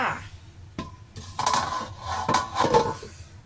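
Metal steamer pot clattering as it is lifted off the stove after steaming taro, a few sharp clanks and scrapes near the end, close, with someone speaking over it.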